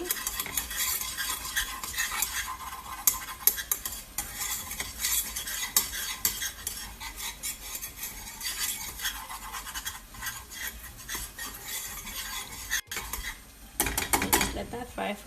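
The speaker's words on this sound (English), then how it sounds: "Just let that fry for about 2 to 3 minutes before we go ahead and start adding our milk." Lasagne sauce fries in a pot and is stirred steadily, a continuous close sizzle mixed with rhythmic spoon scrapes against the metal.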